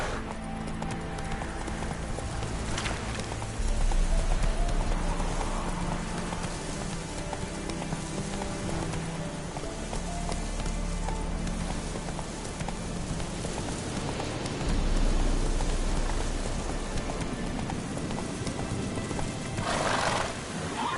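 Roach, a horse in The Witcher 3, gallops with steady clip-clop hoofbeats and occasional whinnies over a continuous bed of rain and game ambience, no talk audible.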